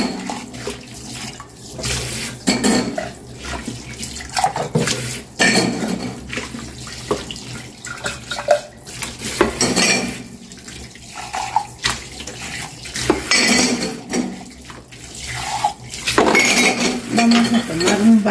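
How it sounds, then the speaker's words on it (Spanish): Dishes washed with Salvo Advanced Lemon dish soap being rinsed under a running tap, with loud surging water bursts and the clatter of plates and cutlery in a sink, close and busy. "Se enjuaga fácilmente la espuma"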